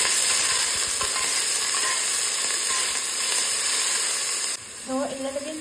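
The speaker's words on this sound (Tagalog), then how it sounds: "Nagpainit na tayo ng mantika. Nilagay na natin yung bawang. Nilagay na natin yung sibuyas." Garlic and onion fry in hot oil with a steady, loud sizzle, joined by occasional stirring scrapes, before the sizzle drops off near the end.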